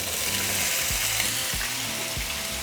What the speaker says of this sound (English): once the oil is hot, we're going to throw in our potatoes